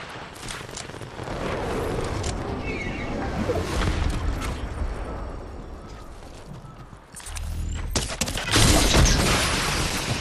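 Gunfire in the Fortnite video game, with dense rattling bursts of shots under a continuous noisy battle din that grows louder and heavier near the end.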